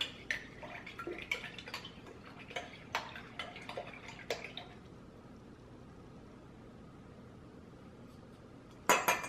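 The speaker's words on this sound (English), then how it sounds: "And then I just stir these together, mostly just to get all that off the spoon." A spoon stirs and clinks against a small container while homemade face wash ingredients are mixed, giving a series of light, close taps and scrapes that fade into near silence, followed by a brief clatter at the end.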